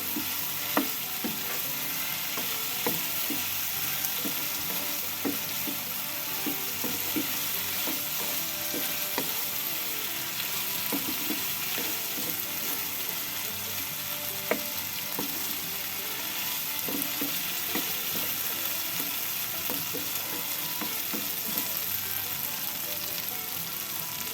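Green tomato bhaji sizzles steadily in a hot pan while being stirred, a continuous close frying hiss with soft scraping clicks from the spatula running throughout.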